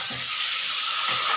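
Lentils for a radish and pea dal go into a hot pan with a steady, close hissing sizzle that holds evenly throughout, with no talk over it.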